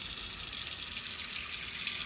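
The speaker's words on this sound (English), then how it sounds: "Excuse me as I put some water on." Water runs steadily from a sink tap in a home workspace used for washing dirty sheep fleece, a continuous hiss and gush with no talk over it.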